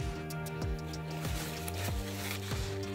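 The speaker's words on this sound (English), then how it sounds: "Sometimes when it's really gross, I'll just dip it in the soapy water there." A Pez dispenser dipped into a container of soapy water, giving soft wet squishes and gentle sloshes with a few repeated splashy strokes close up.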